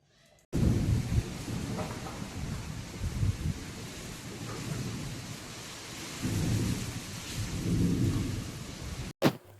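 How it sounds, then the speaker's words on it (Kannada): Heavy rain pours steadily with deep rolling thunder rumbling through, swelling louder in the second half, and gusts of wind underneath; no voices. "ಇವತ್ತು ಮಳೆ ಗಾಳಿ ಜೋರಾಗಿತ್ತು, ಜೋರಾಗಿ ಬೀಸ್ತಾ ಇತ್ತು, ಮಳೆ ಕೂಡ ಬರ್ತಾ ಇತ್ತು"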